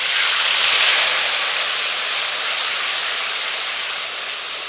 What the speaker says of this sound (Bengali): এখন এর মধ্যে দিয়ে দেবো বাটা মশলা।